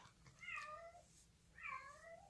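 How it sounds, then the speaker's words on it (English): A cat meows twice, two drawn-out, whiny calls about a second apart, fairly close in a quiet room. "Oh, my kitty cat. She's starting to make those funny noises again."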